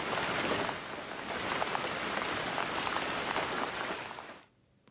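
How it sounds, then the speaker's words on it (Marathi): Heavy monsoon rain pours steadily on Mumbai's Sion–Panvel highway area, a loud, dense hiss of drops drumming on surfaces that continues unbroken before cutting off abruptly near the end. "मुंबईत आज सकाळपासूनच मुसळधार पाऊस कोसळताना दिसत आहे"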